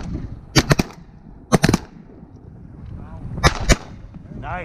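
Close shotgun blasts ring out during a goose and duck hunt over sheet water, three quick clusters of two or three sharp reports each, with wind noise underneath and brief voices between volleys.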